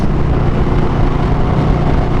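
Loud, steady motorcycle exhaust roar through aftermarket zombie mufflers while riding downtown Phoenix, a continuous dense rumble mixed with wind noise throughout.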